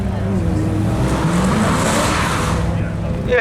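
A Chevy Camaro Z28 at the Brighton Speed Trials gives off a steady, loud engine roar, close by and continuous, with a brief tire squeal.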